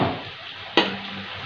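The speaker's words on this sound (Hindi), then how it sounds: "इसको अच्छे से हम भून लेते हैं, मिर्ची और प्याज लहसुन।" Chili, onion and garlic fry in a pan with a soft continuous sizzle, broken by a single sharp utensil clink midway.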